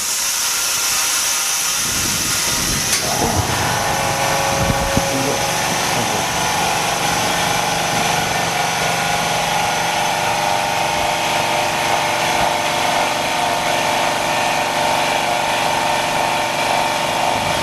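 A Jiutu large vacuum laminator used for cracked iPad LCD repair starts up after a quiet moment, then settles into a loud, steady mechanical hum and whine that runs without a break.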